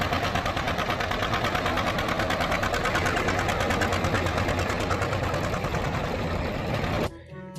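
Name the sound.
green tractor engine running in a cartoon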